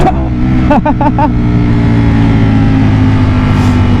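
A Ducati Panigale V4 motorcycle engine sits loud and close, its rumbling idle broken by a quick burst of sharp throttle blips near the start, then a steady throbbing run.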